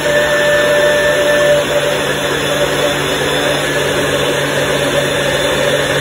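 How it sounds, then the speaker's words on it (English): A NutriBullet blender runs loud and continuously with a steady motor whine and buzzing hum, blending ingredients without pause for the whole stretch. "I take the NutriBullet, pop it on top like this, push down,"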